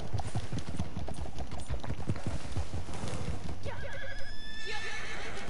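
Clip-clopping hooves trot steadily, then a horse gives a loud, high whinny near the end of the clip, in Red Dead Redemption 2 Online.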